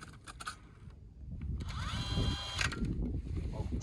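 A power auger or drill bores a test hole through Lake Erie ice, a whining motor that revs up and spins steadily with scraping and crunching underneath, heard at moderate distance against windy outdoor noise.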